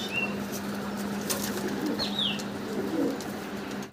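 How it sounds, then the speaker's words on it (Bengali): Pigeons at a pigeon farm give soft, low cooing calls with a couple of brief, higher chirps and some light flapping, all faint over a steady low background hum and no speech. "ভিডিও স্ক্রিনে দর্শক এখানে সিঙ্গেল অনেকগুলা কবুতর আপনারা দেখতে পারতেছেন।"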